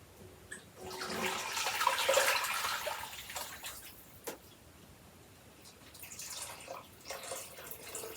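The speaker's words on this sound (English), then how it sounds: "I'm gonna put the strained broth back into the clean pot." Strained chicken noodle soup broth pours from a strainer back into a clean pot, a steady watery splash that swells around the second second, eases off, then trickles again near the end with no talk.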